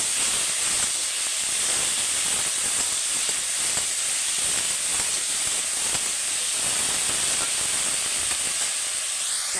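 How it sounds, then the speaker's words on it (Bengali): Vegetables seasoned with salt and turmeric fry in a pan, giving a loud, continuous hissing sizzle with faint stirring scrapes throughout and no talking. "এখন ধরে সবজিটা ভাজা হয়ে গেছে"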